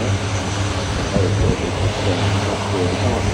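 A Royal Australian Air Force C-130 Hercules takes off far down the runway at the Avalon Airport airshow in Australia, a steady broadband propeller-engine roar sustained throughout without any talk.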